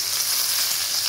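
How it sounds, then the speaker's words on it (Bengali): Onions frying in hot oil in a pan while desi chicken is cooked, a loud close bright sizzle that holds steady and hissy throughout with no voices. "পেঁয়াজ দিয়ে দিলাম"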